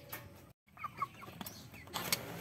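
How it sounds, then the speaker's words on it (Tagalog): A mother hen among chicks in a backyard coop gives a few soft, short clucks at close range, with scattered faint rustles and a sharp chirp near the end. "Yan yung isang inahin."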